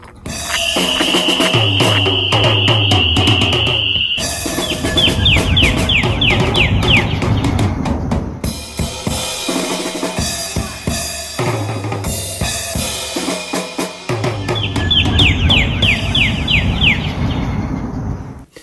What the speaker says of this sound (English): It is a northern cardinal. They're still singing up a storm.